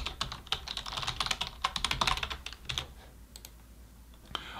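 Rapid typing on a computer keyboard as an email address and password are entered, with dense, irregular key clicks for about three seconds, then a pause and a few scattered final taps, close and clear.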